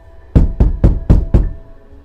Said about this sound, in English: he just heard a knock at the door